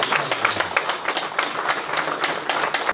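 A crowd at a wedding applauds to welcome a pastor, with dense, steady clapping that lasts the whole time.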